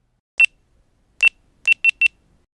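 Five short electronic beeps from a GoPro Hero 6 action camera, one alone then a cluster of four, crisp, close and clean against silence.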